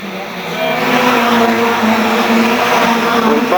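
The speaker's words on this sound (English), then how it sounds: "So away we go then, the longest race of the night, the 2 litre hot rods grand final" A field of 2-litre hot rod race cars pulls away at the start of a grand final at Arlington Stadium, engines rising into a loud, steady massed roar with a commentator talking over it.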